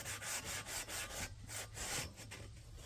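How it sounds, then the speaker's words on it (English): A stiff brush scrubs a cast iron pan during restoration in quick, rhythmic back-and-forth strokes. The scratchy rubbing is steady but fairly faint and close, with no voices over it. "Just want to kind of scrub it all up."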